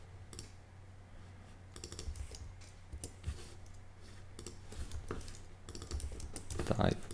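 Quiet typing of a password on a computer keyboard during a Figma tutorial, bursts of soft key clicks in irregular clusters, heard close and faint against low background hum.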